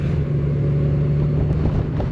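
The six-cylinder engine of a Honda Goldwing motorcycle runs on a solo ride, a smooth, steady low drone with faint wind rush and no change in pitch or level.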